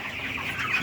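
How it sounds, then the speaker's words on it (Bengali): Chickens on a poultry farm cluck softly and continuously at moderate distance, a low background murmur of hens with no talking. "মুরগি উঠেছে, মুরগিগুলো মাশাআল্লাহ অনেক সুন্দর।"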